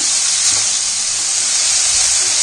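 Mixed vegetables frying in hot oil for vegetable fried rice, a loud, steady, close sizzle and hiss that holds without a break.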